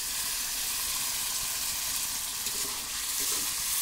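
Taro stalks sizzle and hiss as they are stirred and fried in a pan with a splash of water, a steady close crackle with occasional scraping from the stirring.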